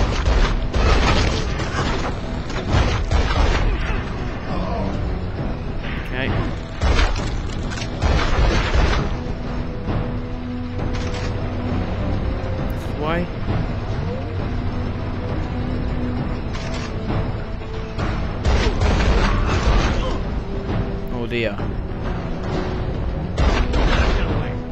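Gunfire and explosions from the video game SpyHunter: Nowhere To Run, a dense, continuous barrage of booms, bursts and mechanical clatter with sharp pops throughout, loud and busy with no clear pauses.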